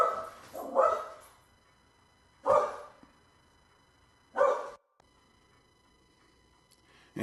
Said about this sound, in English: She barks when people come to the door, then she barks when they drive away again.